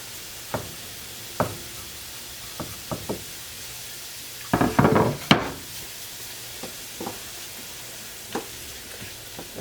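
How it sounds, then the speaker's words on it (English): Garlic sizzles in a hot pan with red onions for a soup while scattered wooden knocks and taps ring out, with a brief busy cluster of clatter midway, all close and without talk. "Now we're going to add our garlic."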